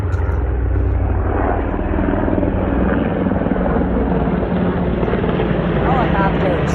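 Helicopters pass overhead near Kirtland Air Force Base, a steady loud rotor and engine drone with low throbbing filling the whole stretch, and some faint talk beneath it.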